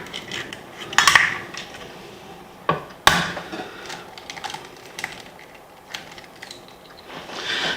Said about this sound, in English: To that we're going to add 2 eggs.